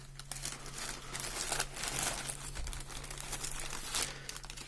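A large plastic AliExpress parcel bag is crinkled, crumpled and torn open up close, with steady rustling and a few louder tearing surges, and no voices over it.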